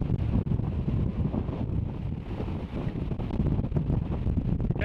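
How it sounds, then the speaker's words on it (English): Wind gusts buffet the microphone in a continuous low rumble, rising and falling in strength throughout. "as it's a bit windy"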